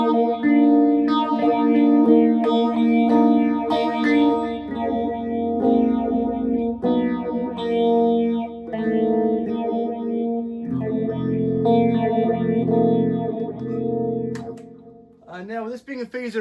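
Electric guitar played through a StewMac Lightcycle Phasor II pedal with the rate turned down, sustained chords and notes swirling with a slow, subtle vocal-like sweep, loud and continuous without talk.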